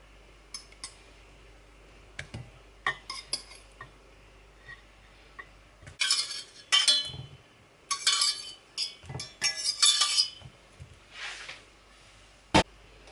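Boiled potatoes transferred from a pot into a bowl, with scattered metallic scrapes and clinks of a utensil against cookware, busiest in the middle with bursts of scraping and a sharp clank near the end.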